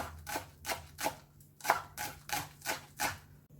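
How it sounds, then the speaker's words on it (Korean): A knife chops scallions on a cutting board in nine crisp, evenly paced strokes with short pauses between them, close and fairly loud, with no talking. "쪽파 송송송송 썰어줍니다"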